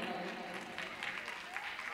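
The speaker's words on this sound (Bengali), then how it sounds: "একটা জোরে হাততালি হবে।" Audience clapping at a prize distribution ceremony in 2025, a steady, dense wash of many hands applauding together throughout, moderately loud and continuous.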